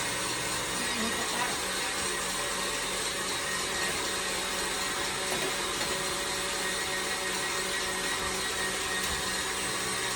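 Electric mixer whirring steadily while beating French macaron ingredients, a constant loud motor drone with no pauses and no talking.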